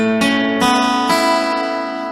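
Three quick guitar strums of the same chord, each bright attack ringing into the next, close and clear with no talking.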